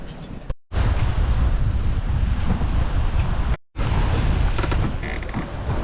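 Strong wind buffets the microphone aboard a sailboat at sea in bumpy conditions, a loud continuous roar cut by two brief dropouts, with waves underneath.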